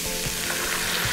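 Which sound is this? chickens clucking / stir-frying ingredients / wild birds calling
stir-frying ingredients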